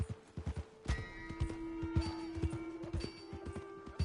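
Horse hooves clip-clopping in Red Dead Redemption 2, a steady rhythmic run of close, moderately loud hoofbeats over a low in-game background hum, with no talk.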